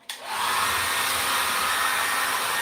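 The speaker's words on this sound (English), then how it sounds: "Use my Conair blow dryer from the USA. On heat mode, better than a heat gun." A Conair blow dryer from the USA runs on heat mode. It starts with a brief click and then holds a loud, steady whooshing roar up close without a break.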